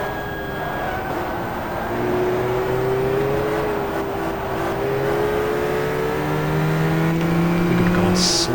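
Race car engine in the GTR2 racing game at Suzuka, a steady loud drone that rises and falls in pitch as the revs climb and the car drops back to fourth gear, with no talking.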